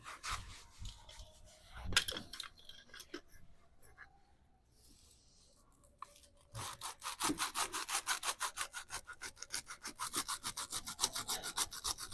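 A homemade broom's end is sawn through with a fast, steady back-and-forth rasping that grows loud and regular after a few scattered scrapes and a quiet pause.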